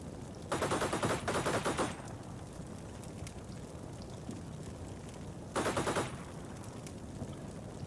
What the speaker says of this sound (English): Anything that's not burning, they shoot at it until it burns.